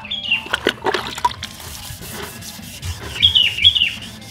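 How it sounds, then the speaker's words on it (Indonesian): Wet sandpaper rubs over body filler on a car bumper with water, giving scattered scraping strokes near the start, then softer intermittent rubbing and a few thin high squeaks toward the end. "Untuk proses pengamplasan sendiri, amplas dengan air, jadi air selalu mengikutinya."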